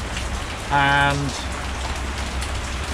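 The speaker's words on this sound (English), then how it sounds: "Right, well, it's raining." Rain falls steadily at a boatyard, a continuous moderate patter on surfaces, with a brief spoken word near the start.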